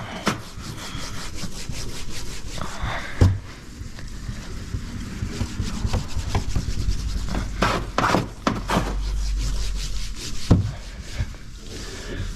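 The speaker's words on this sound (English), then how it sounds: "Just like doing this to rough up this dot matrix, rough up the defroster lines" The dot matrix and defroster lines on the back glass of a 2022-2023 Honda HR-V are roughed up, producing continuous close rasping scrubbing strokes with a few louder knocks.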